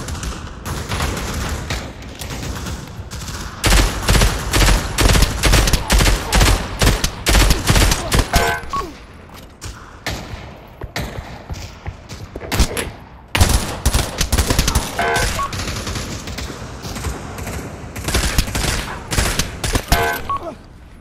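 Rapid bursts of VR shooter video game gunfire, loud and close, firing in long volleys with brief pauses between them.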